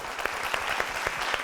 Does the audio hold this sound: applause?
yes